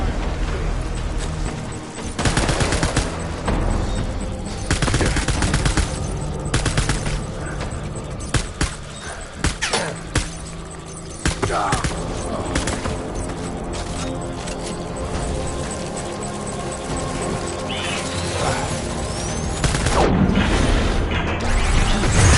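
Video game gunfire from Death Stranding: bursts of rapid shots and sharp cracks ring out loud and dense over a continuous noisy battle backdrop, with a few heavier impacts scattered throughout.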